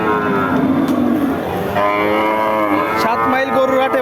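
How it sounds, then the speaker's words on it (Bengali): A native breed cow with her calf moos loudly and close by at a cattle market, drawn-out lowing calls repeating one after another. "এইদিকে একটা দেশি জাতের গাবির সাথে বাছুর"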